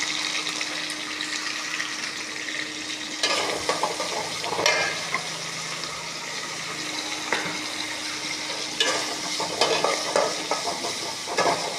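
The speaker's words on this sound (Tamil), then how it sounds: "நான் வெங்காயம் போட்டுடலாம். புதினா கருவேப்பிலை போட்டுடலாம். இப்போது வதங்கட்டும் நல்லா." Onions, mint and curry leaves sizzle in hot oil with cardamom and cinnamon, a steady frying hiss broken by scraping stirs and clinks of a spoon against the pan, close and continuous without talk.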